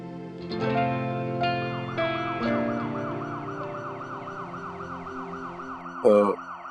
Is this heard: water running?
no